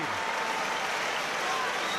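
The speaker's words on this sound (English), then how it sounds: "a standing ovation from the crowd here in Warrington" A standing ovation from a rugby league stadium crowd in Warrington during a World Cup match between New Zealand and Samoa: a dense, continuous roar of clapping and cheering that stays loud and even throughout.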